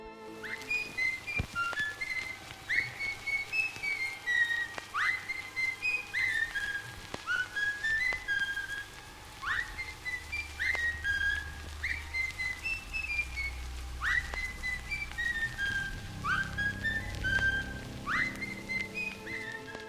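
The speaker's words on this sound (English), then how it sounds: "This song has since also been scrapped in favor of just a whistling tune" A whistled tune from the game Bendy and the Ink Machine repeats a short rising-then-falling melodic phrase again and again, steady and clear, over a faint low background rumble, with no talking.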